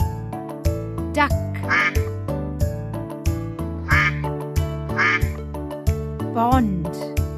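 Duck quacks for a children's animal-homes lesson sound in several short bursts over steady, bouncy background music, fairly loud and close.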